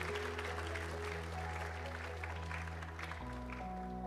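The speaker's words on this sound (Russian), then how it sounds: "Давайте мы поддержим аплодисментами." A church congregation applauding during a Thanksgiving service, steady clapping over a sustained organ-like musical drone whose chord shifts near the end.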